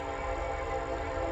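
A passing train fills the background with a continuous rumbling roar and droning whistle-like tones, steady and fairly loud throughout, no voices.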